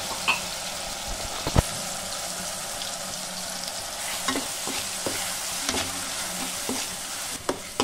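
Chili fries with ground shallot and garlic in a pan, giving a constant crackling sizzle close by, with scattered pops and sharp spoon scrapes as the mixture is stirred. No voices are heard.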